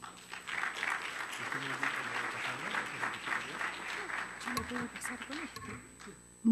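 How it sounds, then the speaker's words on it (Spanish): An audience gives sustained applause to welcome a speaker before a lecture on motherhood, a steady wash of clapping with voices murmuring underneath. "Recibámosla con un aplauso"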